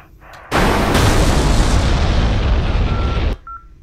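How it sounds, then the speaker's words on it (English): Two bombs released at a very short interval in a flight game strike almost the same target, bursting into one loud, sustained explosive roar that lasts about three seconds and then cuts off. "2 bombs basically hitting almost the same target at very low interval of launch"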